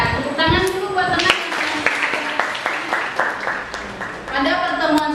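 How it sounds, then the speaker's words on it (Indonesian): Classroom applause as students clap for a classmate during a lesson, a dense patter of many hands that fades midway and then swells again at the end, mixed with voices talking. "Tepuk tangan dulu buat teman."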